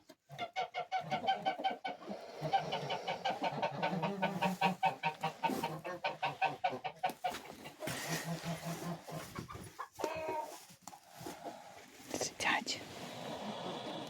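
Two brooding turkeys sitting on eggs hiss and rasp at close range, a rapid, breathy, pulsing series of harsh sounds that continues for several seconds before breaking into scattered clucks and quieter noises.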